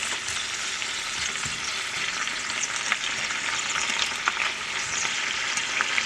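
Bok choy frying in a hot pan until its green leaves wilt, a steady, close sizzle with faint crackles and occasional stirring clicks running continuously without any voices.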